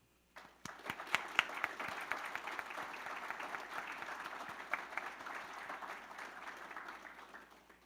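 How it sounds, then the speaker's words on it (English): A Veterans Day audience breaks into applause after a short pause, with dense, steady clapping from a sizable crowd that holds evenly for several seconds before tapering slightly, heard from a moderate distance. "Please join me in celebrating our Veterans Day with a round of applause."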